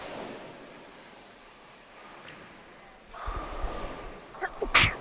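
A single sharp sneeze bursts out near the end, after a few seconds of quiet room noise and a brief snort-like breath, in a commentary booth at a women's bowling tournament.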